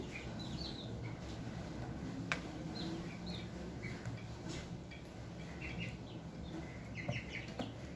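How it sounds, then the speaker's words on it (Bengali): Four- to five-day-old chicks peep with scattered, high, short chirps over a steady background hiss, never rising far above the noise. "আমি কিছু মুরগির বাচ্চা কিনেছি, সেটাই তোমাদের সঙ্গে শেয়ার করব বলে আজকে ভিডিও নিয়ে এসেছি"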